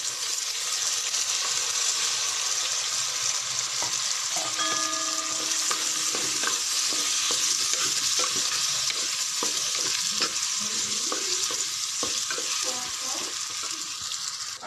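Raw mango pieces frying in a pan for a mixed vegetable mango curry give a continuous close sizzle with scattered light crackles and faint clinks, and a soft voice occasionally murmurs underneath.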